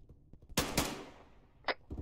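Gunfire in Arma 3 during an infantry fight around a building: a sharp burst of two close, loud shots with a fading tail, then one more short crack, with no talking.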